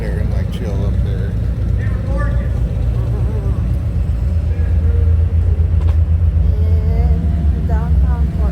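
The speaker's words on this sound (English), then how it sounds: "Except for a noisy car." A noisy car rumbles past in downtown Portland at night, a loud low engine drone holding through the stretch while people talk nearby.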